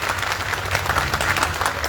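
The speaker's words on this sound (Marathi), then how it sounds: "जोरदार टाळ्या एकदा त्या माझ्या बहिणीसाठी वाजवा." Audience at a community awareness event in Indapur clapping together, a full sustained burst of applause from many people, fairly loud and continuous with no speech over it.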